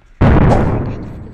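A single bomb blast in the Supreme Duelist Stickman game bursts suddenly, loud and booming, then rumbles and fades slowly over the following second.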